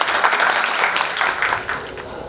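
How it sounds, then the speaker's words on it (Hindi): An audience at a theatre play gives a loud, dense round of applause as a guest is welcomed to the stage, sustained and close, with a voice faintly beneath. "एक बार जोरदार ताली बजाइए।"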